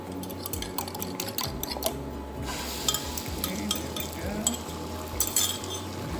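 Omelet being spread around in a hot oiled pan while cooking chicken Alfredo with broccoli and mushrooms: light scraping and clinking of a utensil against the pan with a steady sizzle underneath, close and continuous.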